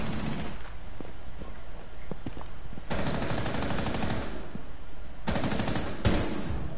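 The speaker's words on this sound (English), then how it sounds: "He's trying to shoot me." Automatic rifle fire in Rainbow Six Siege, with dense sustained bursts around three seconds and again near five seconds, loud and close over a busy background of footsteps and scattered shots.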